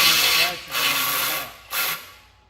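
Ratchet working on lock nuts during engine removal from a Ford F-150 2WD with a 3.5 EcoBoost; three bursts of close, raspy clicking and scraping, each under a second, separated by brief pauses.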